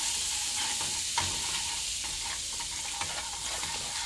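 Pav bhaji being mixed with masala in a hot pan, giving a continuous loud sizzle with occasional spoon scrapes and taps against the pan, close by and with no talking.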